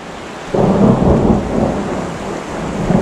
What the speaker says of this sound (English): There's the thunder saying hello again.